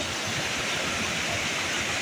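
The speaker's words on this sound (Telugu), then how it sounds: "వాటర్ ఫాల్ ఇది పెద్ద పెద్ద రాయలు రాయల మధ్య నుంచి అయితే వాటర్ అయితే పడుతుంది" A steady, dense rush of a waterfall pouring between large rocks near Ananthagiri, roaring evenly throughout, broad and unbroken with no other sounds standing out.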